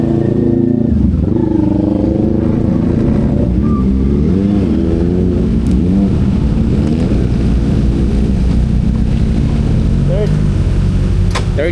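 A car engine hums steadily while pulling in to park at Little Baguio in Bataan, a loud continuous drone with slight pitch rises, accompanied by voices talking throughout.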